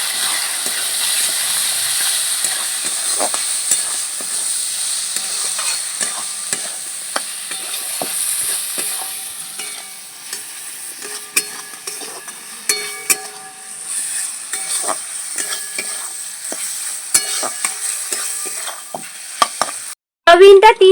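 Soya chunks frying in a pan with chilli powder and spices, a steady loud sizzle and hiss throughout with frequent scraping stir clicks, ending in a brief gap and a couple of sharp knocks.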